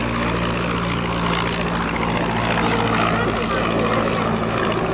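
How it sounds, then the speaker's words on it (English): An SE-5A vintage biplane takes off at an airshow at Fairford, its propeller engine a loud, steady drone throughout with a constant low hum, and a voice audible at times over it. "Now the old aircraft, the SE-5 taking off."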